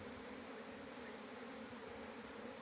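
Honeybees swarm and hum steadily around a wooden hive box holding a caged queen, a dense continuous buzz at close range with no voices.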